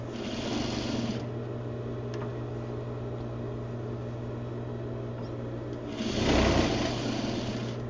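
A sewing machine runs steadily as it stitches the upper collar and lapel of a garment, a constant close motor whir with a louder burst near the end.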